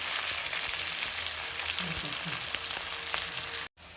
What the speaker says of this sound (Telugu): బాగా బాగా పచ్చివాసన పోయేంత వరకు వేయించుకోవాలి.